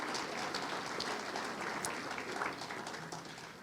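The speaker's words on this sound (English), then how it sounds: "You deserve a big round of applause." An audience applauds former chamber board members at a chamber of commerce annual meeting, with steady, dense clapping that fills the room for a few seconds before tapering slightly.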